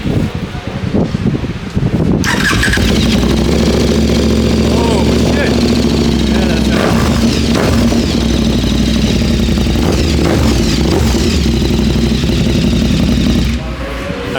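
A BMW S1000RR superbike built to ASBK spec fires up in a hot race pit and settles into a loud, steady idle with blips of revving, close by and continuous for most of the stretch, with people talking nearby.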